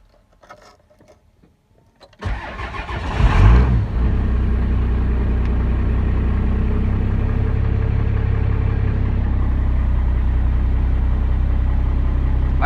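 Race truck diesel engine started after a blown head gasket repair, cranking briefly before it catches with a loud rising rev, then settling into a steady, heavy, close idle that drones on with no talking.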